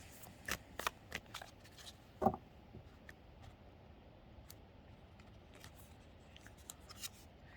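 Tarot cards are shuffled in short, crisp bursts of riffling and snapping, several quick flurries close up at first, then fainter scattered flicks against a quiet room.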